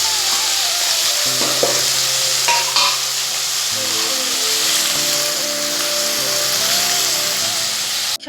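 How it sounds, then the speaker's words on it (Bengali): Potatoes and onions fry in leftover fish oil in a pan, a steady broadband sizzle running throughout with occasional stirring scrapes and clinks, close and fairly loud, no voices. "এই যে কিছু মাছের তেল ছিল, এটা আলু পেঁয়াজ দিয়ে ভাজা করব"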